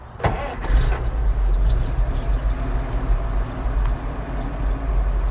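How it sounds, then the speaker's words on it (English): A Volvo TL 22 military truck's six-cylinder petrol engine idles steadily and close, a deep low rumble with a brief revving swell near the start. "The lovely sound of the 6-cylinder petrol engine."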